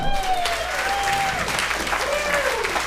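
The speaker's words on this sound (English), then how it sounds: "let's give yourselves a round of applause for coming out to the Grove Comedy Club tonight" A comedy club crowd applauds itself at the Grove Comedy Club in Arkansas. The clapping is loud, dense and continuous, and a voice talks over it with drawn-out, sing-song phrasing.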